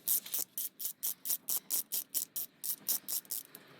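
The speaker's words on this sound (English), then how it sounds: "You're going to want to use a 14mm socket, preferably on an extension." A hand ratchet turning a 14mm socket on an extension loosens the belt tensioner nut of a 22R engine in a Toyota pickup, giving a steady run of about fifteen crisp, evenly spaced clicks, close and alone.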